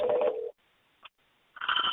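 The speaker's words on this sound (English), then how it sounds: "I just click the little dial button and it then calls" Software phone dialing a call in MiCloud Connect, giving a short burst of dial tones, a brief faint blip, then another steady electronic tone, clear and close with no talking.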